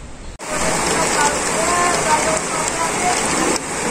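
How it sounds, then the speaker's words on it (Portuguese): Steady rain falls outside a house in Florianópolis, a dense, even hiss that starts abruptly after a brief gap and runs continuously, fairly loud and close, with no voices over it. "tô aqui agora, escutando esse barulhinho da chuva"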